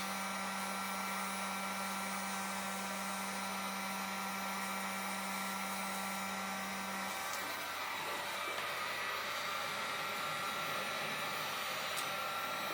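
A hair dryer blows steadily and loudly on fishing tackle being heated for powder coating, with its motor hum holding even for about seven seconds before shifting in pitch as the dryer is moved or throttled.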